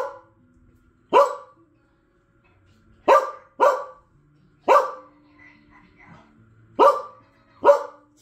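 Dog barking on a speak command during a training session, giving six loud, sharp single barks spaced a second or two apart in a quiet room, with faint murmurs between.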